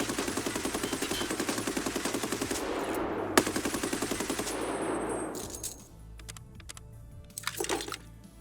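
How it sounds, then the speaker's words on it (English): A PKM machine gun fires a sustained full-auto burst in Escape from Tarkov, a rapid even rattle lasting several seconds that fades into echoing tail and scattered clicks. "Here's the sound of a full burst in case you're interested"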